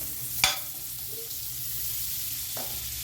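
Pav buns toasting in butter in a pan for pav bhaji, a quiet steady sizzle with a sharp clink of a utensil near the start and another light scrape later, no talk.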